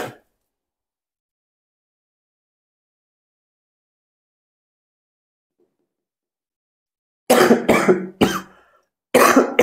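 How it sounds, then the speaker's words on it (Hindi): A man coughs in a few loud, close, harsh bursts after a long stretch of silence. "बारिश आती है और मेरी खांसी साथ में ले आती है,"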